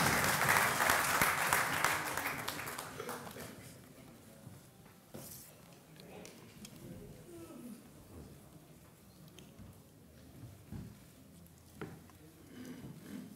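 Crowd at a conference applauding to welcome Tariq Anwar, a loud burst of clapping for the first few seconds that fades into quieter hall ambience with scattered sounds.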